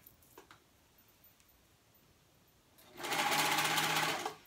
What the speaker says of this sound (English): Make sure everything else is out of the way when you're sewing.